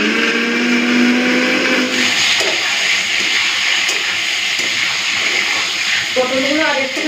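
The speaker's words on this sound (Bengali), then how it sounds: "আর এইদিকে চলুন মশলাটা বেটে নিই।" A kitchen mixer grinder whirs loudly and steadily as it grinds masala paste for a Bengali katla fish malai curry, with a harsh motor hum lasting throughout and a brief shift in pitch near the end.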